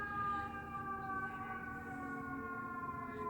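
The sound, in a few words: emergency vehicle sirens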